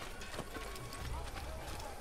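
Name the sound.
horse hooves in Assassin's Creed video game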